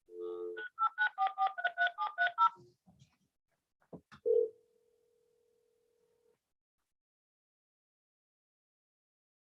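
A rapid string of about eight touch-tone telephone dialing beeps, loud and close, followed after a pause by a single longer tone that fades into silence; no talking.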